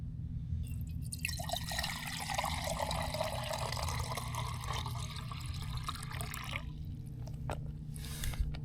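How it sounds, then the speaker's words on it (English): Water splashes and gurgles steadily as it pours out of a water bladder, over a low constant rumble, with a few drips near the end. "pouring water out is a little difficult, but not impossible"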